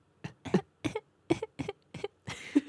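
A character in The Great Ace Attorney video game gives a string of quiet, short coughs, about eight soft paired hacks spaced over a couple of seconds in near silence.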